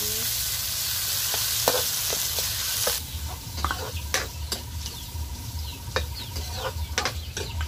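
Fish cooks in a pan with a steady hissing sizzle, louder in the first few seconds then settling, punctuated by sharp pops and clinks of a utensil, with faint household sounds around it.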